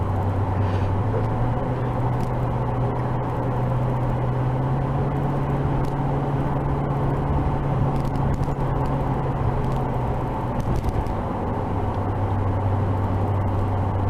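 Inside Derek's new truck, a steady low engine drone and road rumble hold for the whole stretch, loud and unbroken with a slight pitch shift partway through, and no talk.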